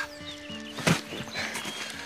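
Horse being ridden outdoors, with a short whinny-like burst near the middle over faint background sound; soft hoof clip-clop is hard to pick out.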